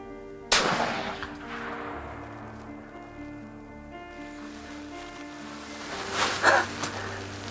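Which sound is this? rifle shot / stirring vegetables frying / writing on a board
rifle shot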